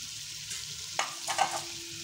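Chicken and turnips fry in a pot under a soft, constant sizzle, broken by a few sharp scraping knocks as the mixture is stirred, with no one talking.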